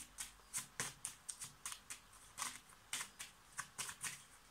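Tarot de Marseille cards being handled and shuffled, a quick series of soft, crisp riffling flicks in an uneven rhythm, faint and close with no talking.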